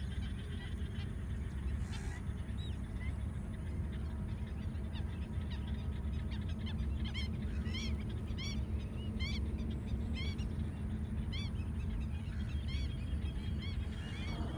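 Distant bird calls, goose-like honks and chirps, ring out over a constant rushing outdoor background near Kanchipuram, India, growing more frequent toward the middle.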